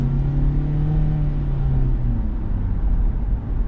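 Kia Forte GT, a front-wheel-drive compact, accelerating with a steady engine drone whose pitch climbs and shifts, close and continuous with road rumble underneath and no talk.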